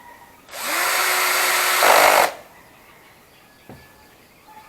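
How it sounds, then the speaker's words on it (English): A Bosch GSR 180-LI cordless drill drives a screw into plywood at low speed, a close, loud whirring motor run of under two seconds that ends abruptly, followed by quieter background. "it drives in the screw, but the speed is just okay"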